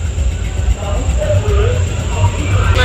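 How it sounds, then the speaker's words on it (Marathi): A small amusement ride train at the Karnapura fair rumbles loudly and steadily nearby, its low mechanical drone constant throughout with a faint high whine on top. "रेल्वे ट्रेन चालू करा लवकर"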